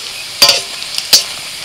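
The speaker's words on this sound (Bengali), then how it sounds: "ডিমের বড়া আবার খুব বেশি লাল করে ভাজা যাবে না," Fish roe fritters fry in a pan with a faint sizzle, broken by two sharp scrapes of a spatula turning them.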